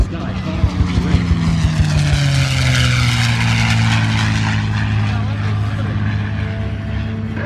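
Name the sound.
propeller warbird aircraft flying low over the airfield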